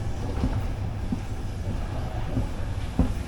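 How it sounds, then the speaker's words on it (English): Bulgarian passenger train running on the line toward Sofia, a steady low rumble with periodic wheel clicks over rail joints, heard from inside the carriage. "The famous Bulgarian trains."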